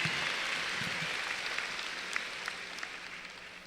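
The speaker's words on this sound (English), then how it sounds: "Let's give a round of applause for Eileen." Applause at a 2022 high school graduation ceremony, a faint, distant, steady wash of clapping from a large crowd, with a few louder individual claps standing out.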